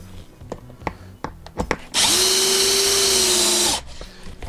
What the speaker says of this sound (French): Et on va visser.